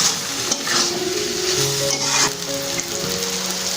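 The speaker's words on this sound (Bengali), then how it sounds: "একটু ভালো করে এটা কষাতে হবে" Egg tadka sautéing in a pan: a steady loud sizzle and fry, with spatula stirs and scrapes through it and no talking.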